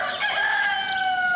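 A rooster crows with a long drawn cock-a-doodle-doo, loud and close, at a countryside hamlet farm with goats, hens, swans and turkeys, and no voices alongside.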